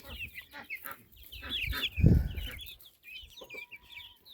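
Several farm chickens cluck and squawk close by in repeated bursts, with one loud low thump in the middle.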